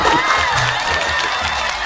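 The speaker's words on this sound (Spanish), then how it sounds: "Un aplauso, por favor." Studio audience applauding a guest on a talk show, brief dense clapping mixed with a few cheers and whoops.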